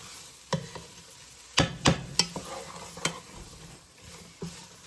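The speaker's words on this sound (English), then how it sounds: "So we're just stirring all that in together because this is going to form a nice, complex base." A spoon scrapes and knocks against a stovetop pot while pot roast base ingredients are stirred together over soft frying sizzle, with irregular clustered clacks near the mic and no talking.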